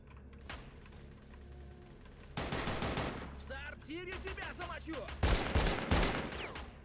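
Rapid bursts of gunfire from the online shooter STALCRAFT, including shotgun blasts, crackle loudly in quick volleys, with quieter pauses and scattered impact and mechanical noises between them.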